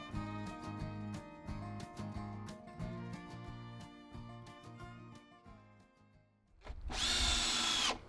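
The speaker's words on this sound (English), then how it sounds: "Hey Jake, can you bend back down and just make the drill sound?" Music with a steady beat plays, then ends and gives way to a loud, close burst of power-drill whirring near the end.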